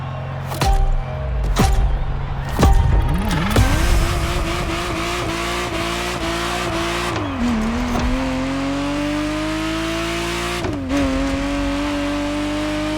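Ferrari Testarossa engine in The Crew Motorfest, a few sharp impacts and tire squeals before the flat-twelve revs up through rising gear pulls, each shift dropping and climbing again, loud and close with no voices.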